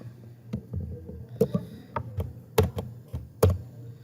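Calculator buttons pressed to enter numbers: a sparse, irregular run of close, sharp plastic taps and clicks over a low background hum, with no talking.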